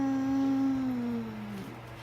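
A toddler imitates a cow, voicing one drawn-out, slightly falling "moo"-like tone of about a second and a half, close and clear with quiet room sound after.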